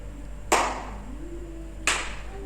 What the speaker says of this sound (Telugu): చూడండి, క్లాప్స్ కొడుతుంటే ఆన్ అవుతుంది.